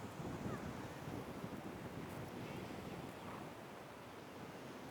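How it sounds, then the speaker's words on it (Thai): Sea waves washing onto a beach, a steady, fairly faint wash of surf mixed with wind buffeting the microphone throughout, with no voices. "ถ่ายภาพให้ดูทะเลด้วยสวยงามนะคะ"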